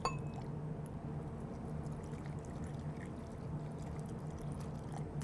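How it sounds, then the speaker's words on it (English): Hot tap water pours steadily over freeze-dried meat, including ribs, in a container, a continuous low, even splashing and trickling that runs unbroken for several seconds, fairly quiet and close. "So this is just hot water from the tap, and I'm gonna cover the meat here."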